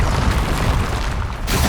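A Confringo fire spell in Hogwarts Legacy bursts in a dense, noisy explosion that holds for over a second, then drops away briefly before more blast noise returns, with no talking.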